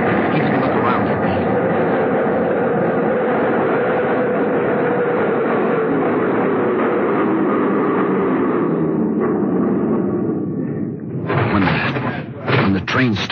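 A train rolls into a station platform with a loud, continuous rumble that holds for several seconds. Clattering brake and door noises follow as it comes to a stop, in a 1940s radio drama setting.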